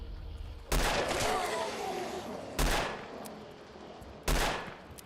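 Gunfire in Fallout 4, three loud, close blasts spaced about two seconds apart, each trailing off into a rumbling echo.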